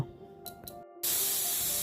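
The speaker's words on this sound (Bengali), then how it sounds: "প্রেশার কুকারে সিটি দিয়ে দিয়েছে তিনটা সিটি হয়ে গেল" A pressure cooker cooking chicken bursts into a loud, steady hiss of escaping steam after a few faint clicks and a brief silence, continuing strongly to the end.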